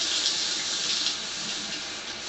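Steady rush of water pouring from a tap during a water-filter test, a continuous close hiss that eases slightly in loudness partway through, with no talking.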